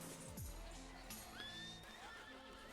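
A horse whinnies and neighs nearby, a rising and falling call followed by a shorter second cry, with hoof shuffling and faint background voices; the sound is quiet overall.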